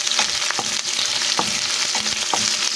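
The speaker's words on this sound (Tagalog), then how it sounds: "Talsikan ako ng oil." Onions sizzle and splatter in hot oil, a steady dense frying hiss broken by sharp pops and stirring clicks at roughly regular intervals, close and fairly loud with no talk.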